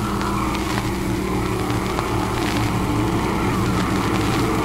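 Race cars on the 1959 Stateline Speedway track make a steady, loud, continuous engine roar with dense low rumble throughout, several motors blending together without a break.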